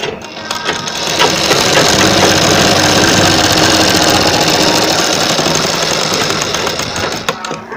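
An electric sewing machine runs steadily for several seconds, stitching a net sleeve, with a dense, continuous whirring mechanical drone that starts after a brief moment and stops near the end.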